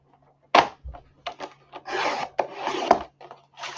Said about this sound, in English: we're going to cut a 10 by 12 inch piece for our policy envelope